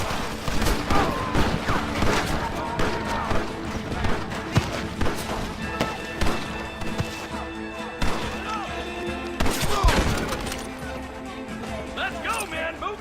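Gunfire rattles continuously through a Red Dead Redemption battle, with steady shots and crashes layered under shouting voices and music throughout.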